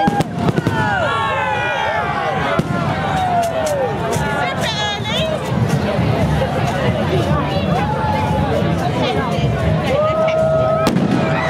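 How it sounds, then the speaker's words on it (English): Fireworks whistle and crackle with scattered bangs over a steady murmur of crowd chatter, the shrieking rockets rising and falling throughout, at a Bonfire Night procession in Hastings. "Fireworks again."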